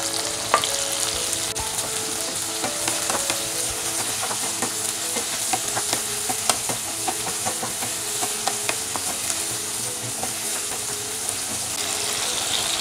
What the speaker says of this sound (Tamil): தக்காளி சேர்த்து ஒரு 1 நிமிஷம் வதக்குங்க.